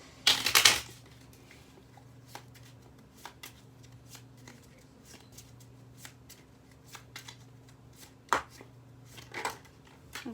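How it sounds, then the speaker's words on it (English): Oracle cards being shuffled by hand, a loud riffle burst at the start followed by soft repeated card taps and slides, with a couple more shuffling bursts near the end. "I'm being told to shuffle one more time."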